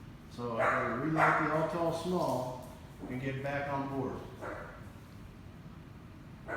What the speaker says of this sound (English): Sorry for the dog in the background